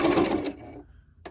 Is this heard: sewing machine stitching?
yes